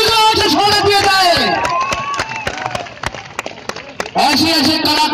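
Crowd at an outdoor dangal wrestling bout in Kakori breaks into loud applause and cheering, fading under an amplified announcer's voice and then swelling again near the end.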